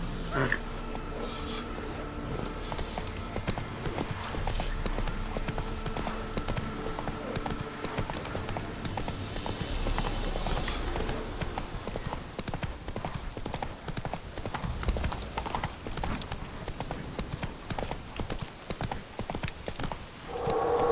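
Horse hooves gallop in a steady, fast clip-clop rhythm in The Witcher 3, loud and continuous throughout, with an occasional whinny and game ambience behind.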